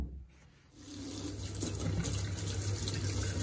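Firm raw mangoes rinsed under a running tap, a steady close splash of water that starts after a short quiet moment and keeps flowing evenly.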